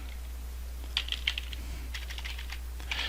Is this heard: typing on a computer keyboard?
yes